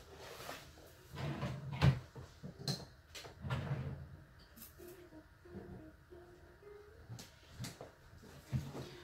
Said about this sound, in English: y'all keep hearing my drawers open, close, open, close